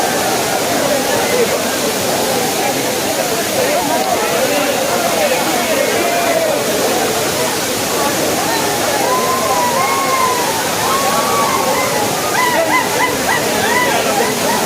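Kutralam seasonal waterfall pouring in a steady, dense roar of crashing water, with voices of a crowd and someone talking faintly underneath.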